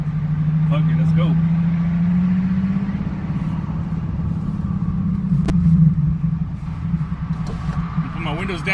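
Nissan 370Z in manual mode driving with windows down, a steady low engine drone and road rumble throughout, rising slightly as it pulls, with no talk over it.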